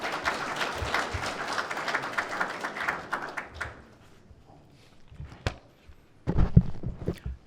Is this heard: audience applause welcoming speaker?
yes